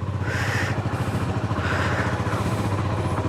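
A warmed-up motorcycle engine idles close by with a steady, rhythmic low thumping, fairly quiet and alone.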